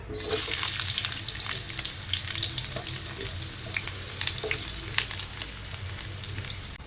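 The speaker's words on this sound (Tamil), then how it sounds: "நம்ம இந்த வெங்காயத்தை இருக்குல்லங்க, பெரிய வெங்காயம், அதை போட்டுக்கலாம்." Large onions frying in hot oil for a Chettinad-style egg gravy, with a steady close sizzle and crackle throughout and occasional stirring scrapes, no talking.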